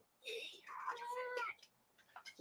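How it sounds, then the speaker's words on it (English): A cat meows in a couple of drawn-out, wavering calls close by, with a faint scrap of voice or movement at the end. "Meow."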